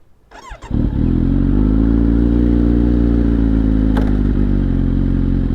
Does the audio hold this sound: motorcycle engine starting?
yes